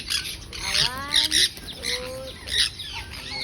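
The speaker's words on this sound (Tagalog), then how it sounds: "Isa lang yung bird." A single bird, kept as a registered wild pet and bathing among wet leaves, gives a series of harsh squawks and rising whistled calls, close and fairly clear against a quiet room.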